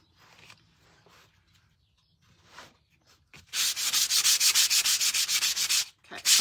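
Hand sanding painted wood with 80 grit sandpaper to distress it: after soft scattered rubs, a loud, fast run of rhythmic back-and-forth scrubbing strokes, close up and alone.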